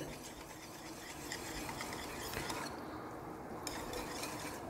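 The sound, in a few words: mixing yogurt garlic chutney masala in a bowl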